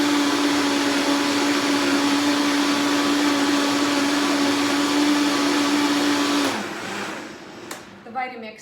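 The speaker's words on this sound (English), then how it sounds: "Vitamix does really quick work of it." Vitamix blender on turbo speed blending lemon and ginger, a loud steady high roar that holds strong, then winds down abruptly, followed by a few rattles and clunks.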